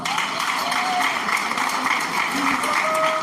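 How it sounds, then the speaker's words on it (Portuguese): A church congregation claps hands together, a steady dense patter of applause heard throughout alongside a speaking voice. "E bate palmas"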